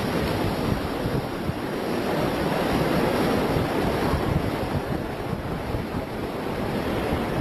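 Surf rolls onto a Brazilian beach in a constant, loud roar of breaking waves, mixed with gusty wind buffeting the microphone, with no pauses throughout.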